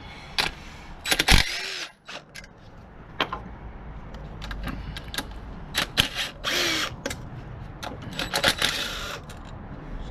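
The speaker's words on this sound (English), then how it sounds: "A standard drill, it's 12 millimeter." A 12 mm drill whirs in short bursts while bleeding a Subaru clutch, ratcheting and clicking in between, with clanks of metal and handling noises nearby.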